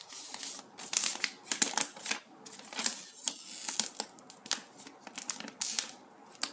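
Plastic packaging peeled off a new Google Pixel 3 phone during an unboxing, a series of close crinkly tearing and crackling bursts with brief pauses between them, no talk.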